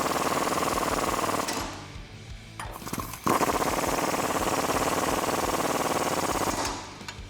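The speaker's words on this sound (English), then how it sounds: "tighten those up using an 18mm socket and a 5-inch extension to go inside the bracket and a 16mm wrench to hold the" A Jeep Wrangler JL suspension bracket bolt is tightened with an 18mm socket and extension while a 16mm wrench holds it, giving a loud, buzzing power-tool rattle in two long bursts separated by a brief clack, with no speech.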